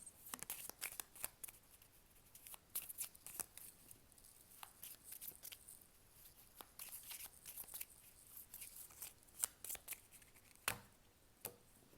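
Tarot cards are shuffled and pulled from a deck for a love reading, giving faint, scattered papery flicks and soft snaps spread through the quiet.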